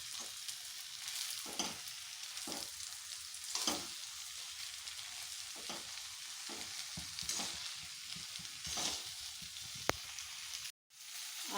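Veg noodles being stir-fried with vegetables in a hot pan, tossed with tongs to keep the strands loose, giving a continuous crackling sizzle broken by repeated scraping stirs and occasional clicks.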